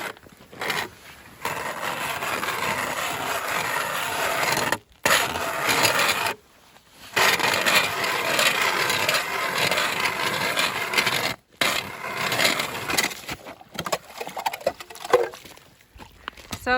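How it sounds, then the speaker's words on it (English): Drilling and sawing a hole through lake ice with an ice saw in Finland: long stretches of loud, steady rasping, grinding noise, broken by several brief pauses. "we are drilling all corners and then we are using the ice saw to cut it completely"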